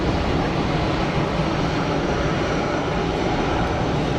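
An Air Canada airliner taxis at Geneva Airport, its engines producing a steady, loud broadband roar that stays even for the whole stretch without voices.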